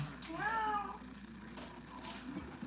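A cat meows in a rising, wavering cry that lasts under a second, heard close over a quiet kitchen background with faint room noise.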